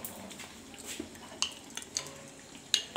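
A spoon clinking against a small bowl or cup while cornflour is stirred into water for egg chilli, a few light, sharp taps over quiet kitchen background.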